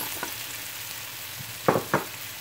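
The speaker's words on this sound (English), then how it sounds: "I'm going to add a few onions to my pan and saute them. And then I'm going to add in my mushrooms." Onions and mushrooms sautéing in a pan for steak stroganoff make a low, even sizzle, broken near the end by two sharp utensil clacks close by. No one talks.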